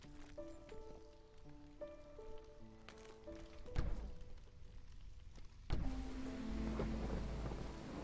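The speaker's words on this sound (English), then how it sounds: "Alright, it's storm time." Thunderstorm with rain in the city-building game Against the Storm: soft melodic game tones at first, then two loud thunder cracks and a steady wash of heavy rain.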